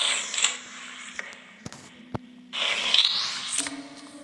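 A cupboard door in the Dark Pursuer horror video game creaks open with a drawn-out squeal, joined by a few sharp mechanical clicks and knocks, all close and with no voices.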